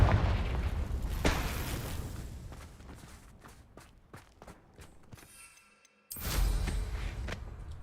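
A Confringo fire spell cast in Hogwarts Legacy bursts with a loud blast, then several sharp crackling pops fade before a second heavy burst near the end.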